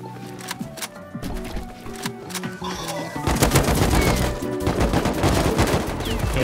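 Gunfire in the Rust survival video game comes as rapid, sharp, close shots layered over a busy game background, at first sparse and then a dense, sustained volley in the second half.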